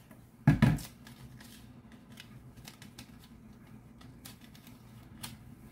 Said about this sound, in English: Cut the top off.